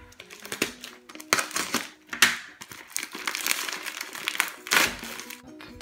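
A parcel envelope is torn and opened, its packaging crinkling and rustling in irregular close bursts with a few louder crackles, no talking.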